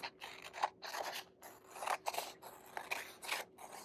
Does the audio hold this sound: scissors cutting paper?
yes